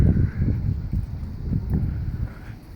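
Low, gusty wind rumbling and buffeting the microphone throughout at Goodrich Castle, with no clear voices.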